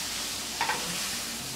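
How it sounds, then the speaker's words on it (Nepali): Cumin-coriander powder and chili powder are stirred in a hot frying pan: a soft, steady sizzle with a brief scraping stir in the middle, close and alone. "अब जिरा धनियाँको पाउडर, यो खोर्सानीको पाउडरलाई राम्रोसँग यसमा चलाउँ।"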